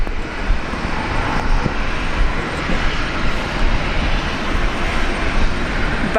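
An airliner takes off from runway 19 left at Brisbane Airport, a broad, loud jet roar that swells and holds steady throughout, with no voices.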